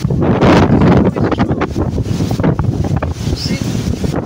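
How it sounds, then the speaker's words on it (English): Strong typhoon wind during a Hong Kong signal number 10 storm buffets the microphone in loud, gusting roars, close and continuous, with a person talking intermittently beneath it. "it's very windy."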